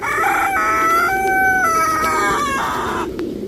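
An American Silkie rooster crows once, close and loud, a long drawn-out call with a falling end, alone without talk.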